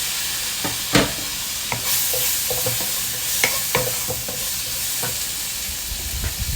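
Chopped tomatoes hit a hot pan while a mussel dish cooks, giving a steady frying sizzle with intermittent stirring scrapes and clicks of a utensil against the pan, close and moderately loud with no talking.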